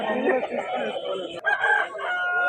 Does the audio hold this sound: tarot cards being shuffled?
no